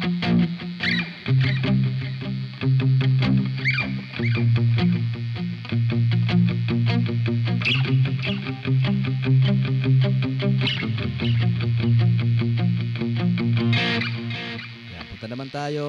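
An electric guitar played through an M-Vave Tank G multi-effects unit with delay, reverb, amp and cab simulation active rings out in distorted, echoing chords and single notes, loud and continuous, with a brief pause near the end.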